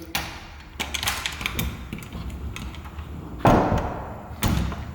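A stuck sliding door being slid and tested as its misaligned latch catches, giving a few sharp knocks and thuds with a louder clunk near the end, close by.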